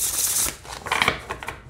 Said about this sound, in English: All right, no issues with the shuffling.